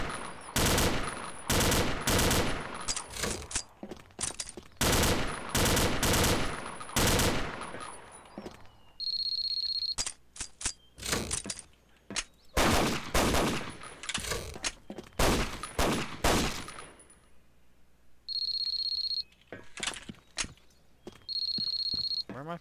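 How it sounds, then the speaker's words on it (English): M16 rifle firing three-round bursts in Combat Arms: repeated loud, clipped clusters of gunshots in rapid succession, separated by short gaps and a few brief tonal game sounds. "I'm like the 3-round burst on the M16."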